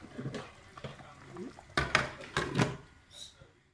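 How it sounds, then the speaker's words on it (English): A spoon stirs groundnut (peanut) soup in a pot, giving a series of scraping and knocking strokes against the pot with a bubbling sizzle beneath, moderately close and fairly quiet. "So I'm going to stir this soup right now."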